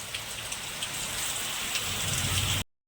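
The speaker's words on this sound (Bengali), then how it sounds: "এই বৃষ্টি যেন আর ছাড়ছে না।" Heavy rain pours down steadily on a rainy day, a dense continuous hiss of drops on surfaces, loud and unbroken, cutting off abruptly near the end.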